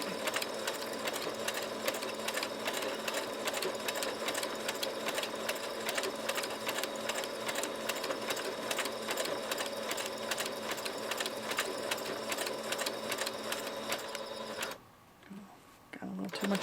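A sewing machine lock-stitches a fabric ruffle in a steady, loud, continuous whir that runs for about fifteen seconds. It stops abruptly near the end, leaving a brief quiet gap and a couple of small clicks.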